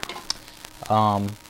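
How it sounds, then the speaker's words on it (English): Sparse, sharp crackling clicks from a radiation detector picking up stray radiation tick irregularly in the background, then a brief droning tone rises and fades. "you can hear the crackles of stray radiation in the background."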